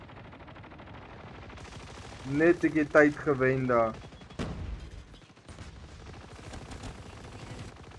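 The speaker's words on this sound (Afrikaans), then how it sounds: "Is nou skote wat geskiet word daar op Metal." Rapid gunfire in a competitive shooter video game match on the map Metal: continuous crackling shots run under an excited commentator talking over them, with a brief louder burst midway.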